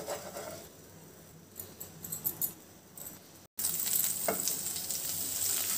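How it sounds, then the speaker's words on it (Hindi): Marinated chicken grilling in a pan for restaurant-style butter chicken, sizzling steadily and close up, with a short stir or clatter midway and louder frying after a brief cut. "जब तक चलिए हम चिकन को ग्रिल कर लेते हैं अच्छे से"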